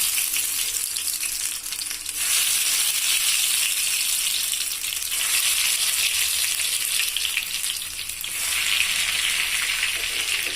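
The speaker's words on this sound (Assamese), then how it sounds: "এয়া মোৰ তেল গৰম হ'ল। এতিয়া মই ইয়াত আলু চপ দি দিম।" Potato chops frying in hot oil, a steady loud crackling sizzle that runs without a break, with faint stirring movements in the pan.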